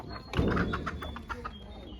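Chickens cluck in short repeated bursts close by, with a brief low thump early on and faint background noise.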